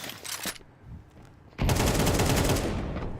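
Rapid bursts of gunfire in a Counter-Strike match at a pro tournament, an opening volley followed by a long, loud, sustained fusillade of rifle and pistol fire in the ramp room.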